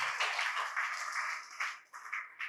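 An audience at a Tamil Christian revival camp applauds, dense continuous clapping from many hands that swells and briefly thins near the end, with no voices over it.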